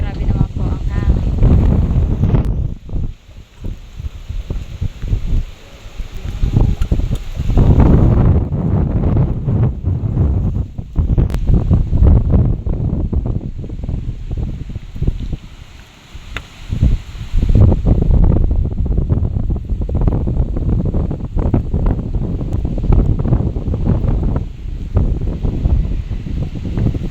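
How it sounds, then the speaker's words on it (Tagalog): Strong wind at Agos during a storm, roaring across the microphone in loud, continuous gusts around damaged floating huts, with a voice speaking over it. "Grabe naman po ang hangin"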